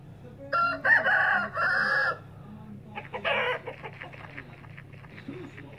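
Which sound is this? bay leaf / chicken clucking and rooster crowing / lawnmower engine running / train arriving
chicken clucking and rooster crowing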